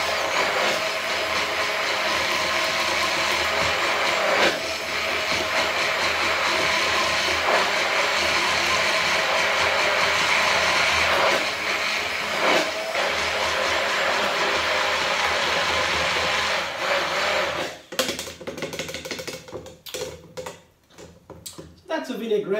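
A small blender whirs loudly and steadily for a long stretch, then cuts off, leaving a few scattered knocks and clatters.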